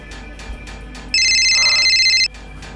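A mobile phone left behind in a house rings with a bright electronic tone, one steady burst lasting about a second, loud and close over faint room background.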